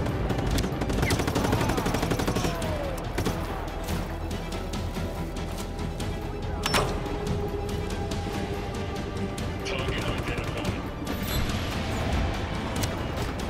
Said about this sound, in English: There's one more guy shooting at me.